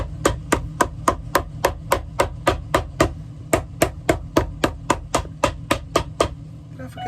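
A leather midsole is hammered onto a vintage Allen Edmonds shoe being resized: about twenty sharp, close blows in a steady, even rhythm with no talking.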